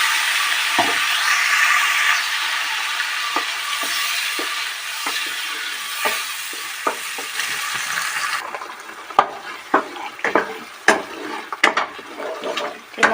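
Spice paste hits a hot pan for chicken kosha, giving a broad steady sizzle that later thins out into scattered spattering pops and stirring clicks.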